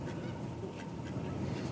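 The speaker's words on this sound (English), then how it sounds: "There's the duck getting the food." Ducks at an outdoor feeding station give faint honking, quacking calls over a constant outdoor rumble.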